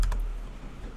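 Quick keystrokes on a computer keyboard while entering a command in a Windows terminal, a few soft clicks at the start, then a low hum.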